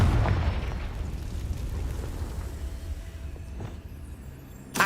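Confringo fire spell exploding in Hogwarts Legacy: a loud low boom up front that rolls into a rumbling, crackling decay, then a sharp burst right at the end.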